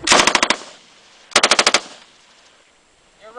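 Rapid bursts of gunfire at an outdoor shooting range: a loud string of about seven quick shots, a pause, then another burst of about seven, with quiet range ambience after.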